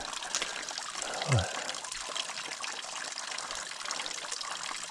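A small spring on the Appalachian Trail trickles quietly and continuously nearby, a faint watery babble with one brief low thump near the start.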